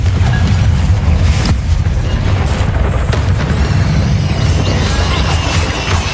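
A Confringo fire spell in the video game Hogwarts Legacy detonates as a loud, sustained rumbling boom, with heavy low-end roar and crackling debris carrying on throughout without a clear break.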